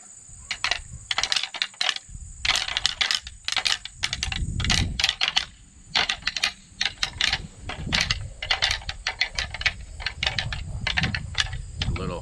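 Black Rack antler rattling device imitating sparring bucks, giving a rapid series of dry, clacking rattles in irregular bursts with short pauses, close and fairly loud, with low rustling underneath.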